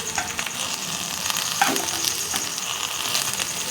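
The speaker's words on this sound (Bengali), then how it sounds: "তেল ছিটছে প্রচণ্ড" Lote fish frying in hot oil, with a loud, continuous close sizzle full of sharp spitting crackles and pops as the oil splatters hard; no one speaks.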